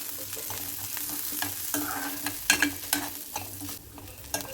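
Cumin seeds, urad dal and chana dal fry lightly in oil in a pan for a bitter gourd curry, with a steady close sizzle and scattered scraping stir strokes over it, and no talking.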